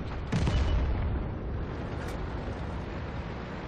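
In World of Tanks, a StuG III B tank cannon shell strikes enemy armor with a heavy, close boom that rolls into a long, dense rumbling roar.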